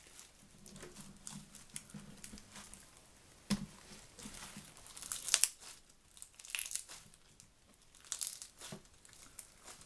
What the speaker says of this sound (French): c'est une slime classique à colle blanche et avec les boules de polystyrène